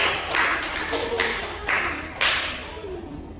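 A classroom of students claps hands in a short burst of scattered, uneven claps with a few sharper taps, fairly close, over faint background chatter.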